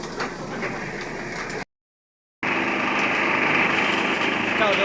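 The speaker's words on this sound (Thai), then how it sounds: "เรือโดยสารนะเรือข้ามฟากเรือขนส่ง ไอคอนสยามสาทร" Passenger ferry engine on the Iconsiam to Sathorn crossing in strong current: a steady, fairly loud high-pitched motor drone that cuts out briefly, then returns.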